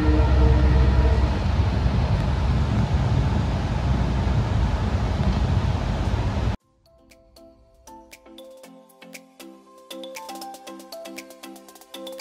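A Dooars Tourist Express Vistadome train rumbles loudly along the track for several seconds, then the noise cuts abruptly to a quiet stretch with light chiming tones.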